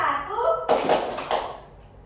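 A class of special-needs schoolchildren claps hands in a counting ice-breaker game, two short bursts of claps following a moment of speech, fairly close in a classroom.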